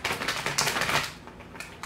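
Two tarot card decks shuffled together, giving a dense, fast flutter of riffling card edges close up that fades toward a quieter tail.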